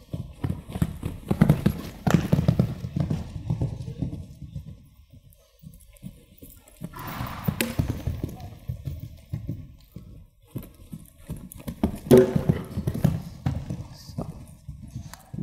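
Horses' hooves thud and clip-clop in a steady, repeated rhythm during show-jumping practice in an arena, fairly close, with brief quiet gaps and faint background sounds between strides.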